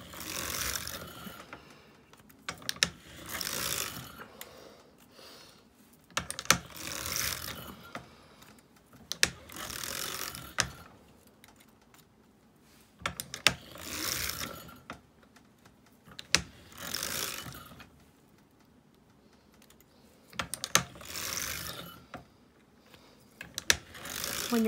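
A circular sock knitting machine is cranked in repeated bursts, each a quick run of dense mechanical clicking and ticking, separated by short quiet pauses, close by and alone.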